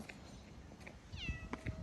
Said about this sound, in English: Oh my God, it's a kitty.